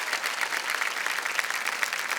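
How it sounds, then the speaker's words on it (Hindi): A studio audience at the KBC quiz show breaks into dense, sustained applause, many hands clapping together at a steady, moderately distant level for a couple of seconds. "जितनी तालियां गड़गड़ा रही हैं यहाँ पर"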